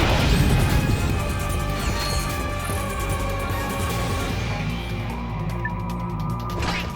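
Glass and boxes shattering in Ratchet & Clank: Up Your Arsenal, a loud crashing smash up front that spills into ringing, clattering debris and mechanical hum, continuing steadily for several seconds.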